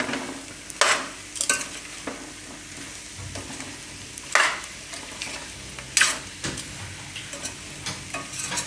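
Kitchen King masala and potatoes being mixed in a pan on low gas heat, giving a soft continuous scrape and sizzle with several sharper stirring scrapes and clinks at intervals, no talking.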